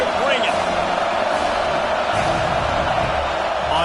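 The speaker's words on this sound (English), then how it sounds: "This crowd knows when to bring it." Football stadium crowd for Syracuse at Georgia roaring before a third-down play: a loud, continuous wall of cheering and noise with no breaks for about four seconds.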